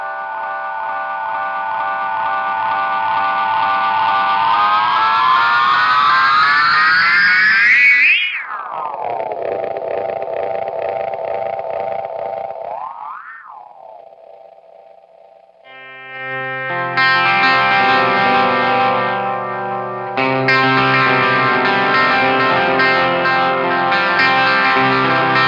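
An Eastwood Black Box delay pedal with repeats maxed out, its guitar repeats degrading into swooping, warbling pitch bends that sweep up and down, then breaking into dense, glitchy stuttering tones, loud with no voices.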